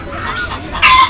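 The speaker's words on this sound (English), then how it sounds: "H for hen." A hen clucks nearby in short, loud, raspy bursts, with one sharper cackle toward the end, heard alone without talk.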